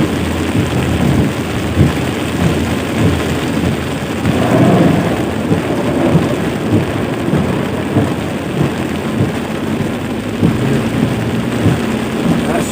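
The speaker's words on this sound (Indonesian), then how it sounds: "hujannya luar biasa" Heavy rain pounds down in a dense, steady hiss while deep thunder rumbles and rolls underneath, swelling midway through a long, continuous downpour with no voices.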